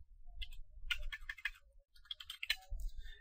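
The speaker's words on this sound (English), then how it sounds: "So I'll just type ifconfig." Short bursts of typing on a computer keyboard in a Kali Linux terminal session, quick clustered key clicks with brief pauses between groups, close and fairly quiet with no talking.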